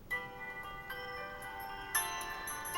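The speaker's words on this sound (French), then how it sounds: "Et là c'est l'alarme." A soft electronic alarm tone from a Nubia ZTE Z7 phone sounds, with sustained chime notes and a brighter burst near the end, faint and alone.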